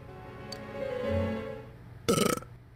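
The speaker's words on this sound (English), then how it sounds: "You were building up a burp!" A character in the game Persona 4 Golden lets out a burp: a low building rumble followed by a loud, gritty belch near the end, alone without talk.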